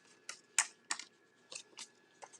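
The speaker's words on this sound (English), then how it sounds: "And you cut right up into that score line, not passing it." Scissors snip through craft paper up to a score line, seven or so crisp, close cuts at an uneven pace with short gaps between, fairly quiet and with no voices over them.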